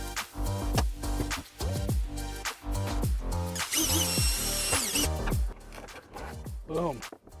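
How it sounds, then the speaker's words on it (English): A power drill whirs in a series of short bursts, each spinning up and winding down, with one longer, high-pitched stretch of drilling in the middle. "I'm going to drill a couple more holes in this"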